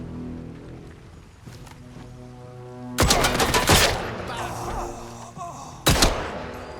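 Bursts of gunfire from the player's weapon in the video game Atomfall, a loud volley of rapid shots followed by a second sharp burst a few seconds later, over a low game soundtrack with no talk.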